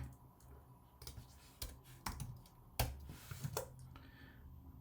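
Keystrokes clatter on a computer keyboard in irregular bursts of sharp clicks, with a few louder taps standing out against a quiet background.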